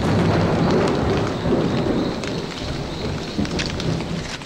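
Heavy rain pours steadily through a tropical forest where orangutans live, with thunder rumbling underneath, a dense, close and loud downpour with no voices.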